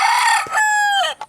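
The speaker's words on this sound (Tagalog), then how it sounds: "Ang ingay ng mga manok." A rooster lets out a loud, close crow, a long drawn-out call, followed by a brief cluck from nearby chickens in an early morning yard.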